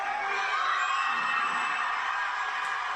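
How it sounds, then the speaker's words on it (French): A large crowd at a live wrestling event cheers and whoops in a dense, sustained roar that holds at steady loudness throughout. "Écoutez ce foule, les amis."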